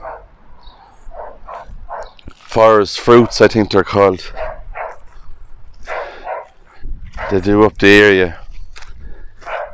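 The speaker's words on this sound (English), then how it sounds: "I'm sorry about the barking in the background" A dog barks nearby inside a house beside an abandoned church graveyard, the yaps sounding intermittently behind someone talking close up.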